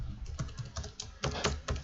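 Quick, uneven keystrokes on a computer keyboard come in short bursts, with a few louder clacks near the end. The taps are close and fairly quiet, and no one speaks.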